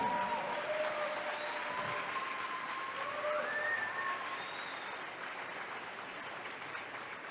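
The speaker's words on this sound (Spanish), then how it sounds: "Ahora dele una ofrenda de palmas al que le puede dar la bendición" A church congregation claps as an offering of applause during a service, a continuous wash of clapping with thin whistle-like tones drifting above it, gradually easing.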